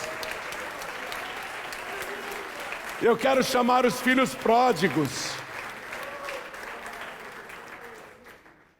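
Church congregation applauding over a preacher's amplified voice, with a loud burst of clapping and cheering in the middle before fading back under continued speech.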